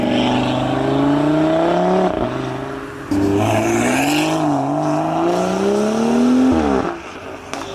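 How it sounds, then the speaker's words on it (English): A Ford Fiesta at a car meet revs hard, its engine pitch climbing and dropping in loud, close repeated sweeps with a short dip between bursts and no talking. "Oh, the Fiesta revs."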